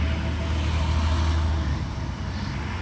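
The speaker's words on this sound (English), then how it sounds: "can't control the traffic" Road traffic passing by outdoors, a loud continuous rumble of vehicles with a low engine drone throughout, with no talking.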